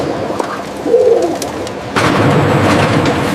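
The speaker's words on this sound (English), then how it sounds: "Automated systems gently move birds into the facility." Poultry birds coo softly as an automated system moves them into a climate-controlled processing facility, one brief low coo over a steady background hum that grows louder near the end.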